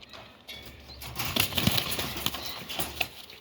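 Pigeon wings flap in bursts as the bird takes off and flies outdoors, a fluttering rustle rising and falling over a steady low background hum, fairly close and moderately loud.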